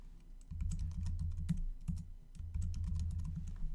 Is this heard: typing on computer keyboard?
yes